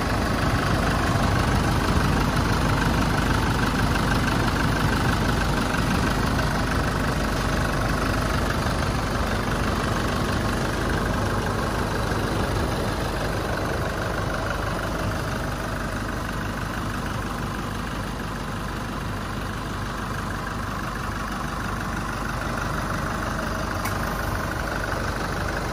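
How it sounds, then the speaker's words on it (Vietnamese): The diesel engine of a 2018 Chevrolet Colorado LTZ pickup idles with a steady, low rumble, smooth and unchanging, with no talking over it. "Quý anh chị có thể nghe cái tiếng động cơ chạy cực kỳ êm."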